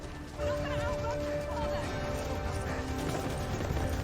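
Horses thunder along in a dramatic TV battle scene, a dense clatter of hooves that carries on without a break beneath tense background sound and a score, with no clear speech in the clip.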